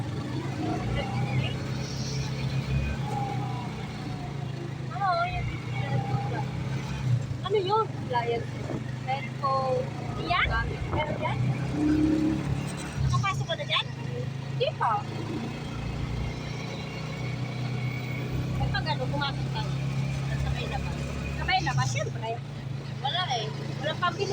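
Road traffic passes with a steady low engine rumble in the background, mostly under close conversation between people.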